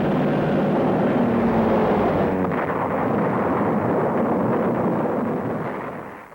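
A loud, sustained roar and rumble of a kamikaze plane crashing into a ship's deck and exploding, dense broadband blast noise that holds steady for several seconds before fading out at the end.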